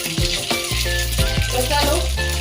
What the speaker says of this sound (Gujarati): એમાં આપણી રાઈ થઈ ગઈ છે. રાઈ નાખી દઈશું.